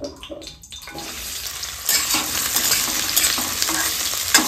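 Small diced potatoes drop into hot oil and are stirred in a pan: a few clattering scrapes, then a loud surge of sizzling that continues with stirring noises, close and busy, no speech.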